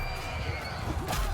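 Cavalry horses in a Mount & Blade II: Bannerlord battle neigh and gallop amid dense, loud battlefield noise, a brief whinny rising over the steady rumble of hooves and combat.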